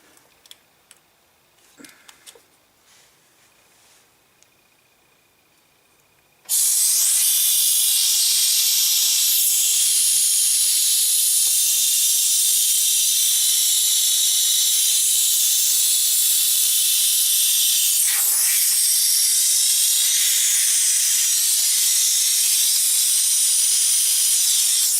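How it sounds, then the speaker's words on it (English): Compressed air blasts into a hole in a Kohler CV125 engine carburetor on a John Deere STX30 mower, a loud, continuous broadband hiss kicking in after several seconds of quiet handling noises and running steadily to the end. "Let's spray a little air up in there and see where it goes."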